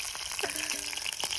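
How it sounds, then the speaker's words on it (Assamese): Snakehead and climbing perch fish frying with onion in a pan outdoors, a brief soft hiss of sizzling oil heard close and fairly faint. "চেং মাছৰ একদম পুৰা ভাজি আহিছে"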